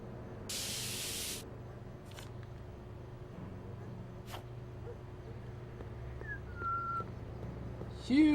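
A spray can hisses in a single steady burst of about a second inside the Back to the Future video game, loud over a low ambient hum, followed by quiet scattered game sounds and a brief whistle-like tone.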